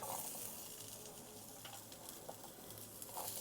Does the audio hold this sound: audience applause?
no